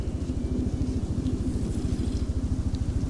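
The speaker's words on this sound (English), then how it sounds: "That's a helicopter. That's a fucking helicopter." Helicopter in the video game DayZ, a steady low rotor throb with a fast regular thumping pulse, loud and continuous throughout.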